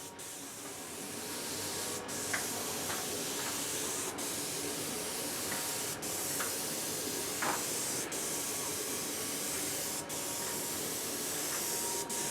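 An airless sprayer applies dark interior household paint onto MDF in a steady, close, continuous hiss, broken by faint regular ticks about every two seconds.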